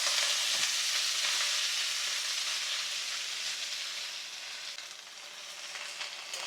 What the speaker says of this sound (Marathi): यात आता ही मेथी घालूया